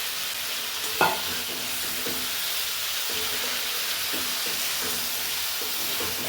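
Mutton fat and potatoes fry with spiced mutton in a pot, a steady loud sizzle with a sharp clank near the start and a few soft stirring scrapes throughout, close by and without speech.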